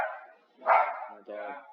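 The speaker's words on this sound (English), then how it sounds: "It's my dog." A dog barks indoors, one loud close bark followed by a shorter yelping bark, with a person's voice nearby.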